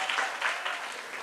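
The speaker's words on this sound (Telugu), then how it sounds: "చప్పట్లు కొట్టి దేవుని స్తుతిద్దాం." A church congregation claps in praise of God during a healing service, a steady dense patter of many hands that swells and eases across the short stretch, moderately loud and without talk.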